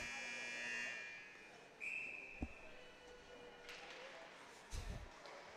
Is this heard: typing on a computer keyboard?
no